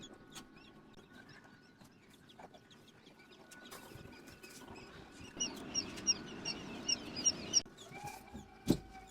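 Many newly hatched white quail chicks peep in a close, busy chorus of short, high chirps, with some soft rustling and a sharp knock near the end.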